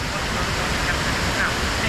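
Indoor waterfalls along the river at Gaylord Opryland make a steady, dense rushing roar of falling water, constant and fairly loud with no break.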